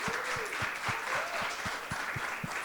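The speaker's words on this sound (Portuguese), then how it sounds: "uma salva de palmas para elas" A crowd applauds steadily and fairly loudly, a dense wash of clapping with a regular low thump pulsing underneath.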